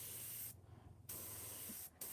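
An airbrush spraying paint onto a lion artwork gives a steady, close hiss in two short bursts broken by brief pauses, with no talk.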